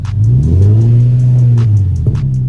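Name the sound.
Infiniti G37 engine revving with short ram intake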